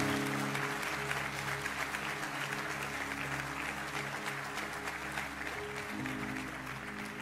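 A church congregation gives loud, sustained applause in worship, a dense clapping wash over a steady sustained musical drone or organ-like chord, continuing evenly from start to finish.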